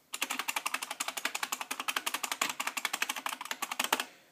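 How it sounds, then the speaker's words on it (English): Typing on a 1988 IBM Model M mechanical keyboard: a fast, steady run of crisp, loud buckling-spring clacks, close up and alone, ending abruptly after about four seconds. "This is my honest-to-God 1988 Model M."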